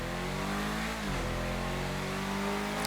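Obey Tailgater S engine in GTA 5, heard from the interior: a steady loud engine drone climbs in pitch, dips briefly at a gear change around one second, then keeps rising under acceleration.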